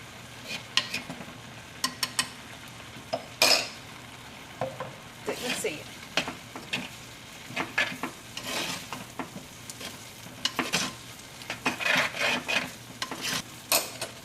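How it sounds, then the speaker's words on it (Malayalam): Ghee sizzles and crackles in a pan while Katti Kalan curry cooks. Irregular stirring scrapes and clinks of a spoon against the pan come through close and clear, with no talking. "നമുക്ക് ഒരു ടീസ്പൂൺ നെയ്യ് ചേർക്കാം"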